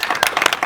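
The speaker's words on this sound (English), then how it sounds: "Big round of applause." An audience applauds a guest at a film Q&A, a short burst of sharp, uneven hand claps, close and moderately loud.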